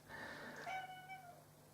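A cat meows once in a drawn-out, rising and falling call, fairly faint and close by indoors, with no talking over it.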